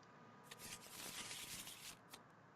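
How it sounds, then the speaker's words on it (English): A deck of playing cards is riffled in an old-fashioned shuffle, a close, quiet burst of rapid fluttering flicks lasting about a second and a half, ending in a couple of sharp snaps. "Let me do the old-fashioned shuffle."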